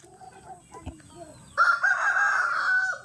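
A loose rooster lets out one loud, drawn-out crow that starts about halfway through and rings on to the end, after a stretch of quieter background noise and faint voices.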